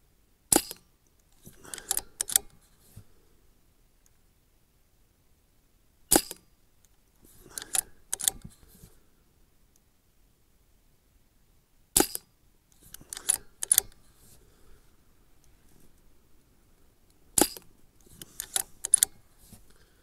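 A Brocock Ranger XR .22 sub-compact air rifle fired in a series of sharp cracks, each shot followed by faint clicks and mechanical handling sounds, in four spaced groups with silence between.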